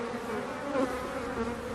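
Honeybees buzzing steadily from an opened beehive, a dense, continuous close-up drone that holds at an even loudness throughout with no voices.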